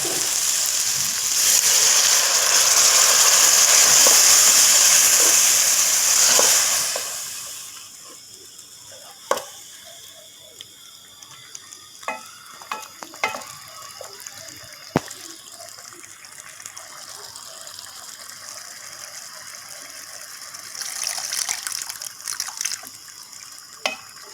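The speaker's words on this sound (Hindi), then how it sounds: "अब हम इसमें पानी डालेंगे जो इसको गलाएगा।" Water gushes steadily from a tap into a pot of dal mash being cooked, loud and close for about seven seconds, then stops, leaving faint clinks and kitchen sounds.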